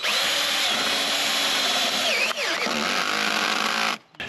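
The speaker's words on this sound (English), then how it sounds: "I'm drilling directly into the top side of the camper with self-tapping screws" A power drill whines steadily, loud and close, as it drives self-tapping screws into the top of a cargo camper roof, its pitch dipping briefly midway before cutting off near the end.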